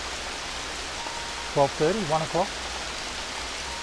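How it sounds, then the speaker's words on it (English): Steady rain hisses evenly throughout at a constant level, with a short burst of a voice speaking over it partway through. "Yes, it's raining."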